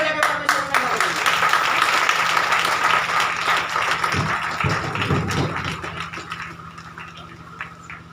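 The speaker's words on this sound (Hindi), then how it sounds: "ताली बजा के परमेश्वर का नाम करेंगे।" A church congregation claps hands together in praise, a dense steady patter of many hands filling the room near and loud, with music droning underneath and a few thumps toward the end.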